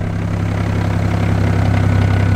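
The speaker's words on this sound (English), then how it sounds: "See if you guys can hear the clutch rattle." An idling 700HP single turbo BMW 335i, recorded close with the AC off, holds a steady low engine drone with a fine rhythmic clutch rattle running underneath.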